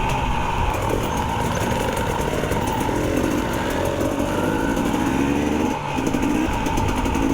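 An enduro motorcycle rides just before a race prologue, its small high-revving engine buzzing continuously and loudly nearby, with a brief dip in revs late on and no talk.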